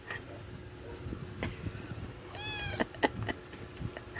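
A hungry stray cat lets out one clear drawn-out meow near the middle, followed by a few short clicks and knocks in a quiet indoor setting.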